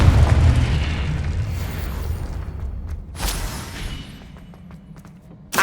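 The Confringo blasting spell in Hogwarts Legacy lands as a heavy, rumbling explosion that decays slowly. A sharp second burst cracks out near the middle, and a brief hit follows at the very end.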